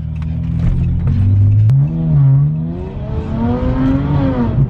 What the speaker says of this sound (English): And listen to my car.